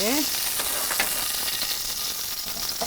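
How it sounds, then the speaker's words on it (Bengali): Loud, continuous sputtering and crackling of pointed gourd frying in hot oil, water from the gourd making sharp spitting pops throughout. "পটলের গা থেকে পানিটা বের হচ্ছে তাই তেলে পানিটা লেগে ছিটে উঠছে"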